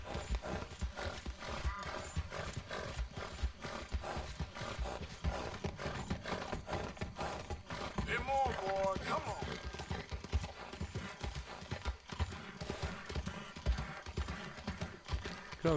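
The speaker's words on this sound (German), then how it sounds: "Ah, ein schnelles Pferd hinter mir." Galloping horse hooves from the video game Red Dead Redemption 2, a steady rapid clip-clop running throughout amid dense game sound and music, with a brief tonal call partway through.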